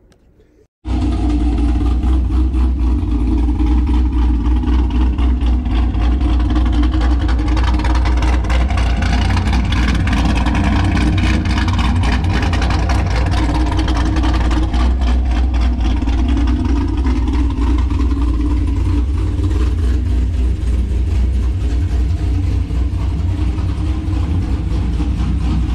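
A 500ci twin-turbo big-block engine in a Chevrolet Colorado starts and runs at light throttle, a loud, steady low rumble that holds close and constant for the whole stretch with no talk over it.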